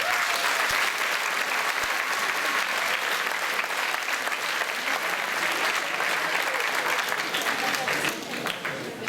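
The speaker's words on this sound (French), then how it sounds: "Vous pouvez d'ores et déjà l'applaudir." Sustained, loud audience applause at a 2014 amateur singing contest in Bain de Bretagne, a dense wash of clapping that runs steadily for about nine seconds before easing slightly at the end.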